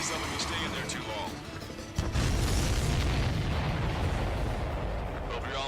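Explosions in the Ace Combat 7 flight game, a dense continuous barrage of booms and bursts that swells sharply partway through, loud and sustained with no pauses.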